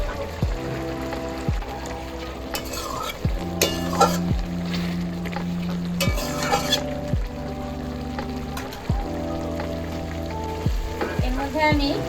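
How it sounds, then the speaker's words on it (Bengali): Fried potatoes go into a frying pan for a jackfruit curry and are stirred, giving a continuous sizzle with scraping bursts over steady background music. "এবার এর মধ্যে আমি ভেজে রাখা আলুগুলো দিয়ে দেব। ভেজে রাখা আলুগুলো দিয়ে দিচ্ছি।"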